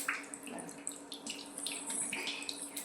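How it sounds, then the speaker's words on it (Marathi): Mustard seeds crackle while tempering in oil on a tava: a soft, steady sizzle with quick, scattered pops throughout. "मोहरी चांगली तडतडली ना,"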